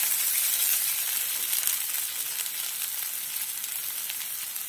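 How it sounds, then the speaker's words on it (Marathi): Ground masala paste for a suran (elephant foot yam) curry sautéing in oil, giving a close, steady, bright sizzle that eases slightly toward the end, with no voices. "सर्व मसाल्यांना तेल सुटेपर्यंत चांगलं परतवून घेतलेलं आहे"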